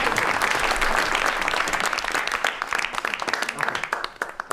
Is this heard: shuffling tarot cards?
no